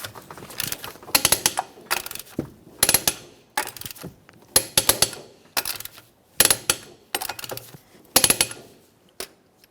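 A wrench ratchets on the rear lower rearward control arm bolts of a 2007-2017 Jeep Patriot in short bursts of rapid metallic clicks, separated by brief pauses, close by and with no talking.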